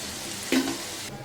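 Colocasia (taro root) pieces frying in hot oil make a soft background sizzle, with a brief louder crackle and stir in the middle before settling back to a quiet hiss.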